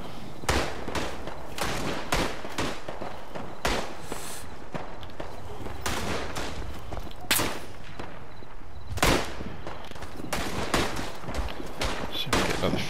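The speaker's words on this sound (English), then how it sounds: "Taking some heavy fire." Heavy gunfire in the Tannenberg WWI shooter game: repeated sharp rifle and machine-gun bursts at irregular intervals, some near and loud, others farther off, over constant battlefield noise with footsteps.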